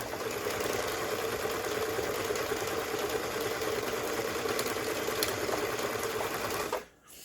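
A sewing machine runs steadily under repair, a dense, even mechanical whir with fine rhythmic stitching clatter that holds constant for about seven seconds before cutting off abruptly near the end.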